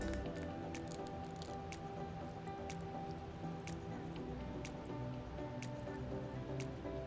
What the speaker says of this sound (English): Now it's time for our broth.